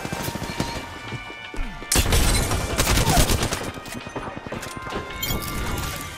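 Bursts of gunfire from a video game, rapid clattering shots that start sparse and then thicken into a dense, loud volley before thinning out again.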